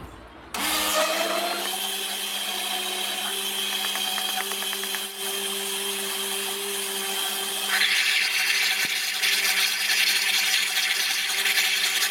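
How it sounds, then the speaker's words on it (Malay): Electric blender grinding kuih filling ingredients starts abruptly and runs loud and steady as a high-pitched motor whine with a rattling, gritty chopping texture, shifting to a harsher, louder pitch partway through. "tutuplah kita punya jak pengisar dan mula kisar"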